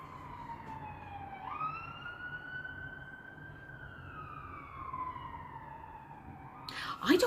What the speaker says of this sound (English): Yeah, I have sirens in the back.